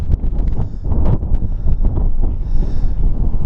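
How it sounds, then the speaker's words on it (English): Gusty wind buffeting the microphone outdoors on St Agnes Beacon hilltop in Cornwall, a rough low rumble rising and falling in waves with no voices. "It's a bit windy up here,"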